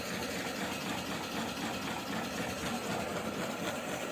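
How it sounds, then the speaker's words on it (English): Seed cleaner auger on a Clipper 27 grain cleaner setup running in reverse, a steady continuous mechanical drone and hum, close and even throughout with no speech. "I turn the switch to the reverse position. That'll run the auger in reverse."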